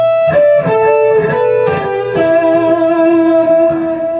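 Electric guitar plays a lick from a solo, a few quick picked notes with slight distortion, then a bend into a sustained, ringing double stop, close and loud.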